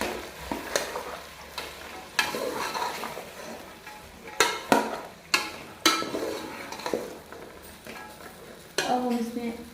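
Peas and carrots being stirred into a sizzling pan of gravy for a restaurant-style mixed vegetable dish: repeated scraping strokes of a spoon against the pan, with sharp clinks over a steady frying hiss.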